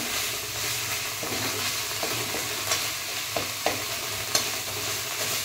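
Cumin paste with turmeric and salt being sautéed in a pan, a steady close sizzle with a few sharp scraping stirs standing out over the continuous frying hiss.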